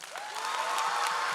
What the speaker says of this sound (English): A big clap for yourself.